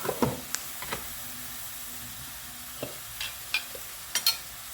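Brinjal curry being stirred with chilli powder and spices in a pan, with a faint background sizzle and a few scattered spoon scrapes and taps, quiet and close.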